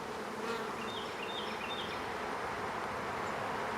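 Honey bees buzz in a hive opened for a spring inspection after winter, a dense close droning hum with a few individual bees whining past.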